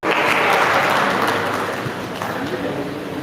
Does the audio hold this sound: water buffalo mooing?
no